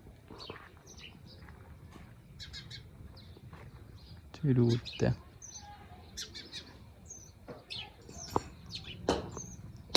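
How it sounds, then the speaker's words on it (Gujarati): Sparrows chirp in quick, scattered high tweets from several birds nearby, with a few louder knocks and thumps breaking in partway through. "ચકલા કિલકિલાટ કરે છે"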